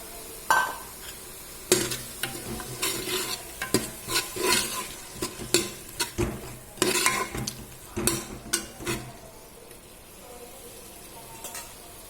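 Tomatoes fry in a pan for Tamil Nadu biryani, stirred repeatedly with a utensil scraping and knocking against the metal over a continuous close sizzle, with short pauses between bursts of stirring.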